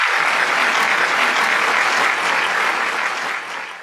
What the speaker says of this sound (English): Yes, you deserve this applaud for you.